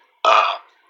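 A single loud, close burp lasting about a third of a second, rising abruptly and trailing off, with quiet around it.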